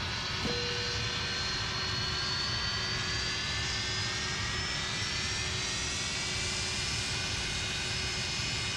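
An MD-80 jet engine spooling up during a start sequence in a flight simulator game: a steady, rising turbine whine over a continuous roar, building gradually with no voices.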